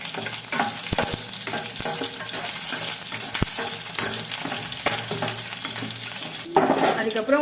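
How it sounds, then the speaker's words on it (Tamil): Garlic and mustard seeds sizzle and crackle in hot oil while a Tamil tomato kuzhambu is cooked, a steady close frying hiss with sharp pops and a burst of stirring near the end. "கடுகு பொரிஞ்சிச்சுன்னா பூண்டு சேர்த்துக்கலாம்."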